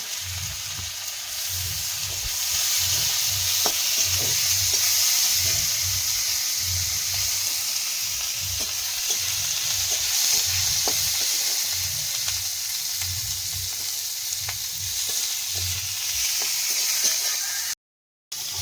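Cumin, green chili and bay leaf frying in a pan, a steady close hiss and sizzle with rhythmic scraping stirs throughout, no voices.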